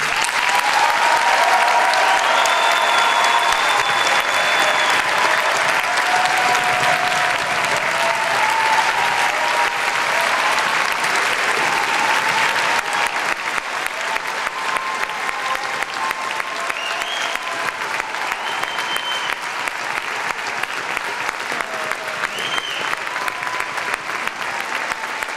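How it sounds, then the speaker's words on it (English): A closing-ceremony audience at a Model UN conference applauds loudly and steadily for a long stretch, the dense clapping of a large hall filling the space without pause. "I request that the audience give them a big round of applause for their efforts."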